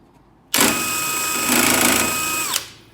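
Handheld nibbler chewing through 16 gauge cold rolled steel, a loud close mechanical buzz that starts abruptly, holds steady for about two seconds and cuts off with a short decay.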